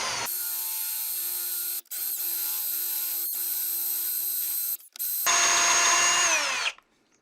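A power drill bores a 3/8-inch hole into the top of a catlinite pipe block, a steady close whine running in long bursts with two brief pauses, then a higher, louder final stretch before stopping.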